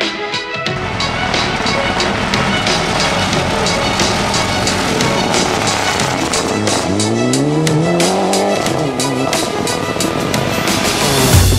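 A Mitsubishi Evo 9 Group RC2 rally car races loudly on a Bulgarian rally stage, its engine roaring continuously up close while the tires squeal and skid through a corner midway, the whine rising and falling in sweeps.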